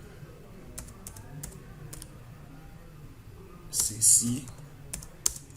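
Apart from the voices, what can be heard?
typing on a computer keyboard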